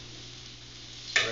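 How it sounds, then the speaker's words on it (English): Onions fry in a pan with a low, steady sizzle and a faint background hum, ending in a brief louder scrape or clatter near the close. "Let the onions cook a little more."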